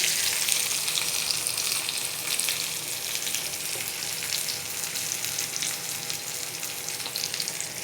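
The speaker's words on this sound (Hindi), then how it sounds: "अब इसमें हम कटे हुए बैंगन ऐड करते हैं। इनको भी हमने ब्राउन करना है।" Chopped eggplant fries with lightly browned garlic in a pan, a steady close sizzle and crackle running throughout with no talk.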